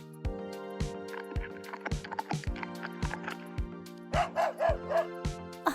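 A large dog barks in a quick series of sharp woofs, close and fairly loud, then gives higher yipping barks near the end, over a steady tonal background.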